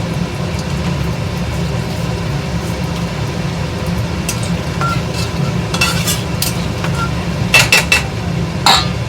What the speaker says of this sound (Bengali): কড়াতে যে কেনার ঘিটা আছে এর মধ্যে আমি ছোটো এলাচ জিরে ফোড়ন